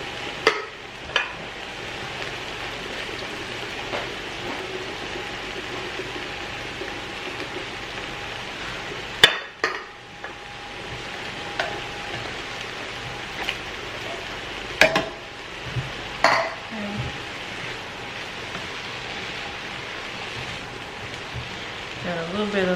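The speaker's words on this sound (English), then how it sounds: "Got a little bit of a saute on the vegetables." Vegetables for a vegan gumbo sauté in a pot with a steady low sizzle, broken by occasional stirring scrapes and clinks of a utensil, as a voice talks now and then.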